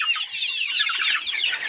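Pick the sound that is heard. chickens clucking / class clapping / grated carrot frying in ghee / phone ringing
chickens clucking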